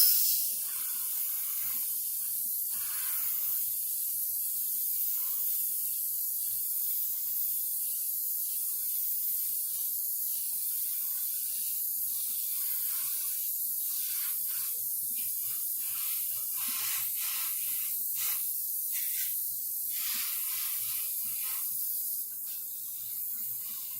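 Airbrush spraying a second, slightly heavier coat of paint: a steady, close hiss that runs almost unbroken, with short bursts and breaks as the trigger is worked.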